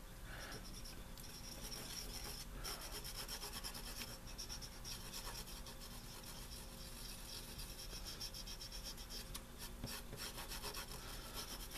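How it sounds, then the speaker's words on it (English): Cotton swab rubbing steadily across the contact pins of a retro game cartridge board, a continuous close scratchy friction with quick back-and-forth strokes and no voices. "I'll just go with the other side of the Q-tip to get off any remaining residue"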